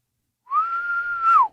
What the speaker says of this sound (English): you can start to get pretty good at whistling